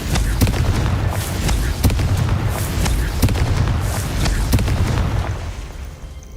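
Confringo fire spells explode repeatedly in Hogwarts Legacy, a run of loud sharp blasts at irregular intervals over a rumbling low bed, fading toward the end.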